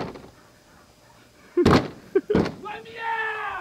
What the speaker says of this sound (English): Don't break the door, dude.